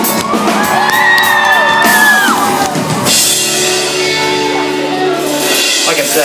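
Concert crowd at a show shouting and whooping loudly, with sustained voices singing along, dense and close, filling the whole stretch.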